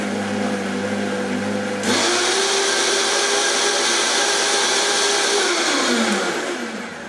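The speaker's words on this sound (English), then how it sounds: "let's whiz it up in this wonderful Vitamix again" A Vitamix blender whizzes strawberry parfait ingredients with lemon juice, starting with a low hum before surging into a loud, steady high-speed roar that holds for several seconds and then winds down near the end.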